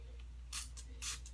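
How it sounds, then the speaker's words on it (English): A small glutathione spray bottle gives two quick hissing spritzes, each brief and crisp, close and fairly faint against a quiet room. "you see it's in a spray bottle, and you spray it like so"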